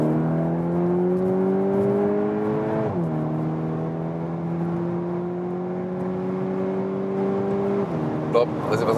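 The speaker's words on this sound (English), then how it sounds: "Now we shift down ourselves, and then we can even have spontaneous acceleration." A VW T-Roc R drops a gear and accelerates hard on the Nürburgring Nordschleife, its engine note climbing steadily, dipping sharply at the shift, then rising again in a loud, continuous in-cabin drone.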